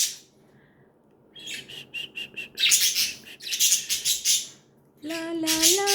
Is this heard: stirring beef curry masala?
no